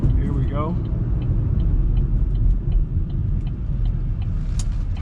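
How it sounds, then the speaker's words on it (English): A 2013 Chevy Spark LT hums and rumbles at low speed in traffic, heard from the cabin as a steady, even drone, with a brief higher chirp near the start and faint ticking above. "Traffic."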